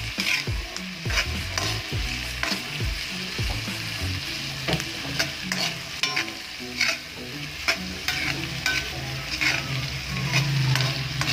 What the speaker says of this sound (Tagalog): unahin natin pagluto yung potato para masarap at malambot